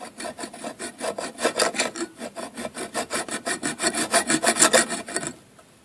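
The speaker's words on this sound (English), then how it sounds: "So just put the metal in a vise and start cutting with the little hacksaw." A small hacksaw cuts through metal clamped in a vise, with steady back-and-forth rasping strokes about twice a second, close and loud, stopping abruptly near the end.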